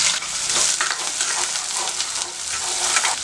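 Chopped small onions fry in sesame oil in a cooker for mutton sukka, a dense, steady sizzle close by with light stirring scrapes throughout, no talking.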